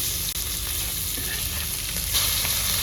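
Semolina-coated tilapia fish frying in a pan, a steady, close, loud sizzle with bright crackling hiss that holds throughout and swells slightly near the end.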